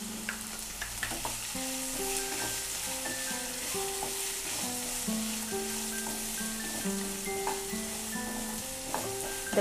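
Chopped onions with salt and turmeric sizzle steadily in a pan as they are stirred, with a continuous crackling hiss and light scraping over soft background music.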